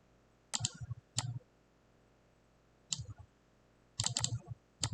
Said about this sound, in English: I'll just type out Santa.